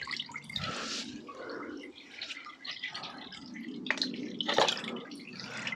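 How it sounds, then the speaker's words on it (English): Old coolant drains and drips from a Yamaha Thundercat motorcycle during a coolant flush. Irregular close splashes and trickles gurgle with a few louder drops, and there is no talk. "So I'll just let that drain through for a minute"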